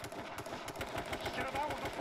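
Rapid automatic gunfire in a video game, a fast, even stream of muffled shots at moderate distance, quiet and continuous throughout the short stretch.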